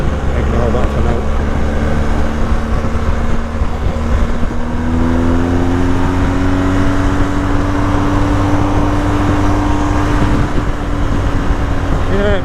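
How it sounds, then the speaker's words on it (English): A BMW R 1250 GS TE Rallye motorcycle pulls hard while overtaking, its engine note climbing smoothly and steadily in pitch over a constant roar of wind and road noise. "very smooth actually when you're overtaking. Lovely smooth acceleration"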